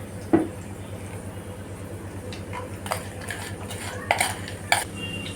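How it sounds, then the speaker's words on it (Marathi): Corn crispy being mixed in a bowl: a spoon scrapes and clinks against the bowl in a few sharp, separate knocks over a low steady hum, close by, with no speech. "आणि हे सगळं आपण छानपैकी मिक्स करूया।"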